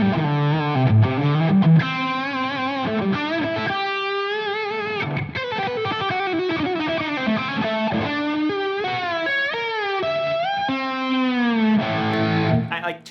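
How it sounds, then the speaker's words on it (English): Distorted electric guitar through an Eventide H9 pedal with reverb, playing a sustained, bending melodic line with a washy reverb tail, loud and continuous with no talking. "Turn some reverb on."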